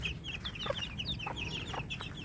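Several young Bulik Gilmore chickens cluck and chatter close by in quick, overlapping calls, with soft background noise and no talking.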